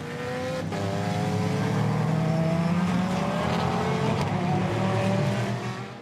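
Race car at the Sepang circuit roaring past on the straight, loud engine note climbing in pitch through the gears with a second engine audible underneath, sustained and close before easing off at the end.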